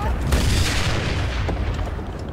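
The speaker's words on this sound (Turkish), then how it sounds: "Lan bir yerde tank var herhalde." A heavy tank cannon booms once, loud and close, in the video game Enlisted, followed by a rumbling tail with scattered distant battle noise.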